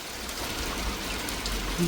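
Steady rain pours down outdoors in the southern countryside, a dense even hiss of drops on surfaces heard close from under a roof, with no talking.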